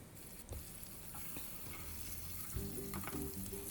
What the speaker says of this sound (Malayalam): നമ്മുടെ ക്യാപ്സിക്കും നമുക്കിതുപോലെ ഫ്രൈ ചെയ്തെടുക്കാം.